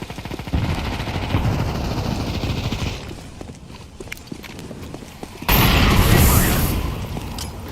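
Video game combat with grenade and gunfire: loud, dense bursts of explosions and shots fill the first three seconds, ease into a quieter stretch, then a sudden loud blast surges back, close and harsh.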